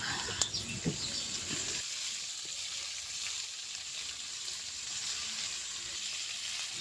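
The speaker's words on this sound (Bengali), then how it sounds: "ভালো করে ভেজে নিচ্ছি" Pointed gourd (potol) frying in hot oil gives a steady, moderate sizzle throughout, with a few soft clinks and taps near the start.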